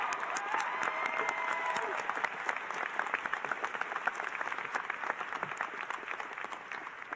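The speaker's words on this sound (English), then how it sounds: "can we all give a round of applause to Maria Gutierrez's mom?" Audience at a social work graduation ceremony breaks into a round of applause, steady dense clapping from a crowd at moderate distance lasting several seconds.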